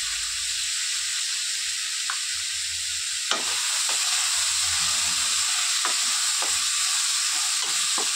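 Vegetables seasoned with salt and turmeric fry lightly in a pan for sabudana khichdi, giving a steady close sizzle and hiss with occasional sharp scrapes of a spoon stirring.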